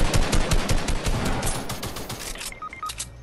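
Sniper gunfire in an online multiplayer shooter game, a burst of loud, sharp shots crackling densely across the clip with a few brief electronic tones near the end.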